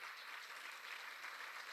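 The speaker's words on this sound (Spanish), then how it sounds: "Un aplauso." Church congregation applauding during a Sunday worship service, a soft, even wash of clapping that holds steady for under two seconds, faint and somewhat distant.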